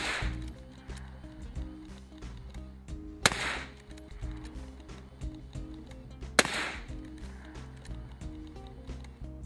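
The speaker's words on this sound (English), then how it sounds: "To see what a longer barrel would do, I used my Winchester 9422M." Two sharp, loud gunshots from a Winchester 9422M lever-action .22 Magnum rifle, about three seconds apart, each cracking out over a low, steady background.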